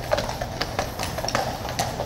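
Horse hooves clip-clop in a steady, uneven rhythm on pavement near tourists at a King's Guard post, about five distinct strikes over a soft crowd-and-street background, fairly close and moderately loud.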